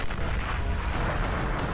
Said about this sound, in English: There we go. There's an explosion.